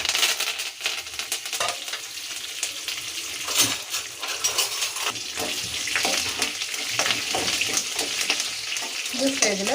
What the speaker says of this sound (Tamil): அரை ஸ்பூன் அளவு வெந்தயம், அப்புறம் தேவைப்பட்ட கருவேப்பிலை, அப்புறம் சுண்டவத்தல், கருவேப்பிலை,